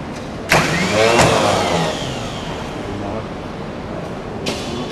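A car engine cranks and fires up after the key is turned during an automotive training demonstration, with a sharp start burst followed by steady close running that tapers slightly, and another brief burst near the end.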